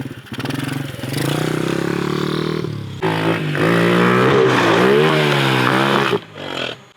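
Motorcycle engine revving hard on a backflip ramp, a sustained loud roar that rises, drops briefly, then climbs again with shifting pitch before cutting off near the end.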